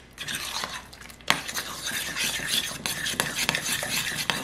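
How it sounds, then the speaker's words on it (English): Mashed freeze-dried sweet potatoes being hand-mixed with milk in a bowl, a steady scraping, stirring clatter of utensil against dish with a sharp knock partway through, close and continuous with no talking. "I'm hand mixing this time because I usually use the Ninja"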